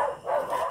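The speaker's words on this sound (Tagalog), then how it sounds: "Nagtatahulan." Dogs bark briefly in a short, close, loud burst near a home where rabbits are kept.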